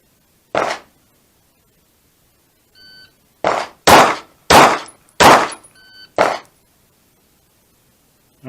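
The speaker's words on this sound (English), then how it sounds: "we have 3 seconds to fire 2 shots center mass and 1 shot to the head" A pistol fires in a timed shooting drill, two shots to center mass and one to the head within three seconds. Sharp, loud, separate shots come in quick groups, with faint electronic timer beeps between them and no talking.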